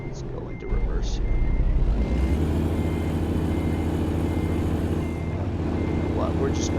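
Heavy truck engine idling and rumbling steadily in American Truck Simulator, with a few brief high reversing beeps at the start and end over the drone; talk heard alongside.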